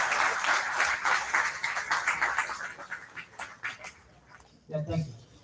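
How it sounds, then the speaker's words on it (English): Dense audience applause at a two-day national seminar session rises loud and then thins out into scattered claps, with a short spoken voice near the end. "So give a big applause to all the students who have presented their papers in this session."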